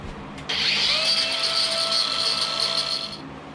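A power tool, likely a rotary cutter, slices an RC rock crawler part in half for a Jeep Wrangler Class 2 build, starting abruptly with a loud, steady high whine that holds for about three seconds before cutting off.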